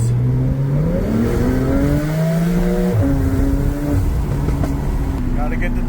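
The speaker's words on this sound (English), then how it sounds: "gotta get the turbos back in action" A turbocharged car accelerates hard and revs, the engine note climbing through several gear changes, loud and close throughout with music or talk layered over it.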